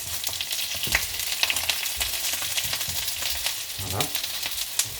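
Onions and leeks fry in a pan for a fish and artichoke dish, giving a continuous close sizzle with occasional stirring scrapes and crackles.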